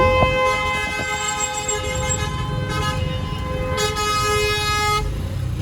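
Car horns honk repeatedly in a traffic jam near Marrakech, with long sustained blasts overlapping against a low rumble of idling engines.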